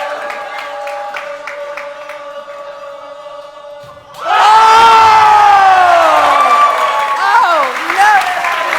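A talk show audience erupts into loud cheering, shouting and whooping, sustained and close, following a quieter stretch of talk and music.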